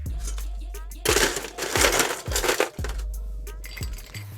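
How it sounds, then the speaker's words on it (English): Ice cubes tumble into a metal cocktail shaker tin while a French Martini is mixed, giving a run of sharp clinks and rattling crashes, with a louder burst of tumbling ice in the middle, close up. "So all we need to do now is just ice that down."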